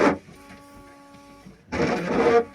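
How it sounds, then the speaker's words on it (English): A car's rear windshield wiper switched on and running, giving a short mechanical whirring burst, a quieter stretch with a faint steady tone, then a louder, longer sweep near the end, with no talking. "So we're gonna turn on the rear wiper."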